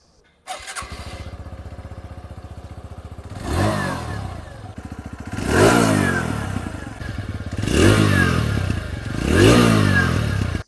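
A 2025 TVS Radeon 110 motorcycle engine starts and idles with a close, even putter, then revs up three times in rising bursts that fall back to idle, loud and without talk.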